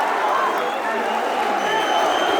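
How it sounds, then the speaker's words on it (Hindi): At a Hindi kavi sammelan poetry gathering, a large audience bursts into dense, sustained applause and crowd noise that fills the whole moment without a break. "ताली बजाई जोरदार एक बार।"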